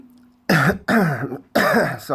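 Three harsh coughs in quick succession, close and loud, separated by short pauses.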